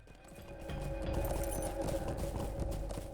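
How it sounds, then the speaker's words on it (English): Hooves clop at a quick, steady rhythm as a horse gallops in the online game The Lord of the Rings Online, fairly close and loud, with game music behind. "Oh, Limbad is a quick horse, thankfully."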